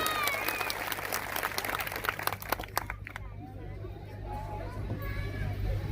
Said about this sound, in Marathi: एकदा जोरदार टाळ्या झाल्या पाहिजेत आपल्या साहेबांसाठी